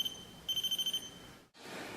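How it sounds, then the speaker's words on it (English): A paranormal investigation motion sensor gives a quick run of evenly spaced electronic beeps, faint and close, over a thin steady tone in a quiet room, ending in a short drop and hiss. "if some type of energy breaks that plane, it'll cause that item to beep"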